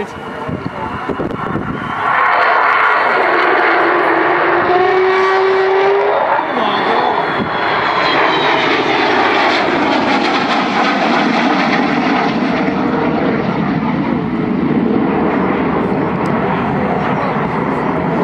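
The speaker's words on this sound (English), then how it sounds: "Now I think this may be her last pass" Avro Vulcan XH558 jet bomber making a pass at the Cosford air show, a loud sustained roar and rising howl of its jet engines that swells and holds steady, close and overwhelming, with no talk over it.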